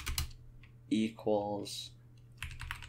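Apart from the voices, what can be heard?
typing code on a computer keyboard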